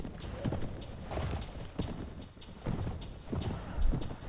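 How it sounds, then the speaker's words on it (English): Horse hooves clip-clop in a steady walking rhythm in the Floris game, with repeated close thuds at an even pace. "Got my new horse as well."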